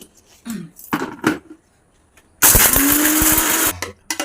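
An electric mixer grinder whirs loudly for about a second and a half while grinding spices for a fish curry, its motor pitch rising, preceded by a few clattering knocks as the jar is handled.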